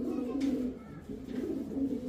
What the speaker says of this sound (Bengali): কি কবুতর এটা? ভাই এটা পাইট নর কবুতর।